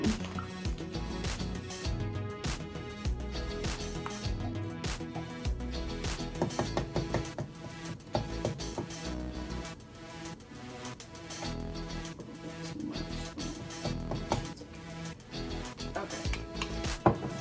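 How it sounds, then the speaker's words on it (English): Tahini being stirred in a container with a utensil, dense continuous scraping and clinking of metal against the container throughout, close and fairly loud, with no talking. "It's a little, got a little bit of liquid on top, so I'm gonna stir it up a little bit."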